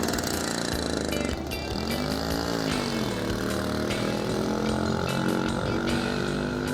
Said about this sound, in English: Nice little 50cc engine, very underpowered but fun to ride